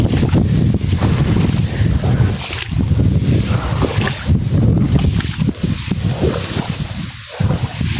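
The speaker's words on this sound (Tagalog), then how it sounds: "Lakas ng hangin." Strong wind buffets the microphone in loud, rumbling gusts throughout, with a hint of water or surf beneath.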